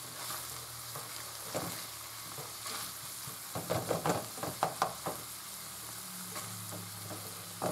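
Meat sizzles and fries in a pan under a steady hiss, with a quick series of scraping, clattering stirring strokes in the middle, close by with no talking.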